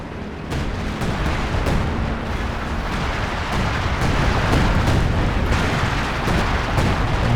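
A 152mm artillery barrage in Company of Heroes 2 pounds away in a dense, continuous roll of booming shell impacts and gunfire, sharp bursts stacking over a steady rumbling bed with no pause.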